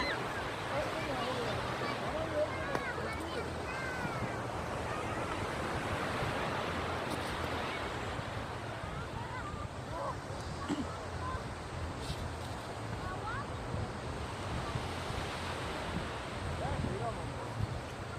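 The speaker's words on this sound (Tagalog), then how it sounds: "Andito po ako sa dagat." Sea waves rolling onto a beach in Namhae, South Korea, with wind buffeting the microphone: a steady, soft wash of surf with faint voices talking underneath.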